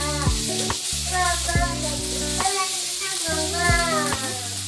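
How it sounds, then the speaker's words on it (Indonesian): Tempeh being stir-fried in a pan sizzles steadily, a continuous frying hiss that sits beneath loud melodic music throughout. "oseng-oseng lagi biar tempenya itu agak matengan"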